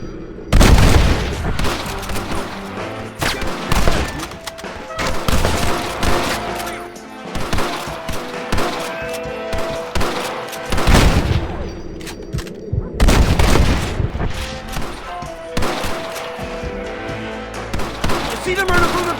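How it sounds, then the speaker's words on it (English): Gunfire in a shootout at a bank in the video game Red Dead Redemption: repeated loud rifle and pistol shots crack in irregular bursts with booming echoes, mixed with shouting voices. "Open fire! Take out those snipers in the window!"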